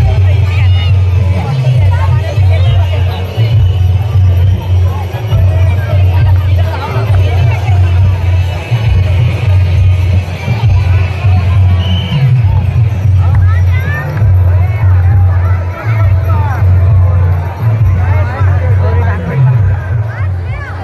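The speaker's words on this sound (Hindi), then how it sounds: "यहाँ पे विसर्जन देखिए कितनी भीड़ है।" A dense crowd at a Ganpati immersion procession, a loud continuous hubbub of many voices with vehicle rumble underneath, steady and close throughout.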